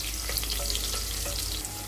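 Onion sizzles steadily in hot oil in a pan for broken wheat pulao, a constant close crackling hiss with small pops throughout and no talking.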